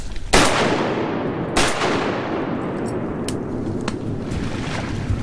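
Two sharp shotgun blasts ring out while duck hunting from a boat, the first loud and close and the second about a second later, each trailing into a long rolling echo over open water.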